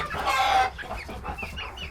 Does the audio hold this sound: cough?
no